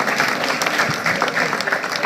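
A community gathering at Solidarity House in St. Michael claps on request in a brief, lively burst. Close, dense handclaps and crowd noise carry through a short two seconds.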